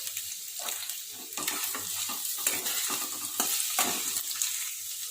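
Chicken with green chillies is stirred in a frying pan, with a steady sizzle under repeated scraping strokes of a spoon against the pan, close and moderately loud.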